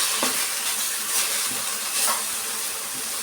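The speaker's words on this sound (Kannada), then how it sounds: "ಸ್ವಲ್ಪ ಹುಣಸೆ ಹಣ್ಣು ಎಲ್ಲ ಸೇರಿಸಿ ಫ್ರೈ ಮಾಡ್ಕೊಳ್ಳೋಣ" Tamarind and spices frying in a pan for mint chutney, a soft, hissing sizzle with a few faint stirring knocks spaced through it.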